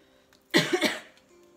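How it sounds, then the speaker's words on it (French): A short cough from a woman still recovering from Covid, one harsh burst that breaks into two or three quick follow-up hacks, heard close and alone in a quiet room. "j'ai encore une petite toux qui persiste de mon Covid"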